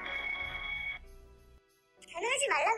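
A telephone rings on an outgoing call, giving a steady electronic tone that stops and then a lower tone and a brief silence. A voice then answers and speaks close up.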